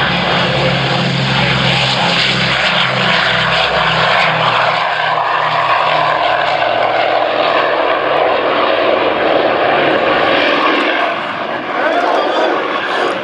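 A B-25J Mitchell flies past at an air show, its twin Wright Cyclone R2600 piston radial engines producing a loud, deep, throbbing drone with a pulsing low rumble that holds steady before easing slightly near the end.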